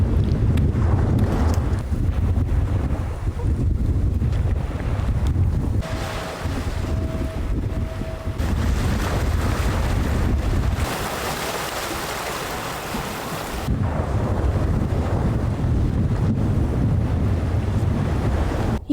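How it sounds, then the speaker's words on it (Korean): Strong wind buffets the microphone on a small island, Dalido near Mokpo, a loud continuous rushing roar with gusty swells that holds steady across the whole stretch, no voices. "바람이 너무 불어."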